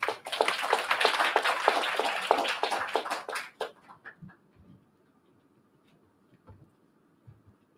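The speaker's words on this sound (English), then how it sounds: "Let's give him a big round of applause." Audience applause for an opening speaker at a policy dialogue, loud and dense for several seconds, then thinning to a few scattered claps and fading into near silence.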